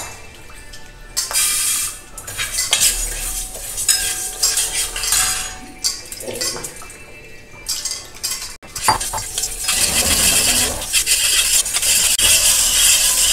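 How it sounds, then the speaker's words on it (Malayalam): A metal spoon stirs and scrapes lentils lightly roasting in a pan for sweet jaggery pongal, giving close, continuous clinks and scraping with a faint sizzle and no talking. "ആ പരിപ്പ് നമ്മൾ എടുത്ത് വെച്ചിട്ടില്ലേ മധുരമുള്ള പൊങ്കലിന്, ശർക്കര പൊങ്കലിന്, അതൊന്ന് ചെറുതായിട്ട് വറുത്തെടുക്കാം."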